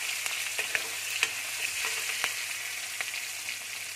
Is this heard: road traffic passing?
no